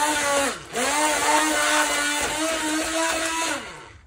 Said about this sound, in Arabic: نجيب هنا الخلاط ونضرب